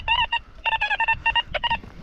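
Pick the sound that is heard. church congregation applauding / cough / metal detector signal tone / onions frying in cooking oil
metal detector signal tone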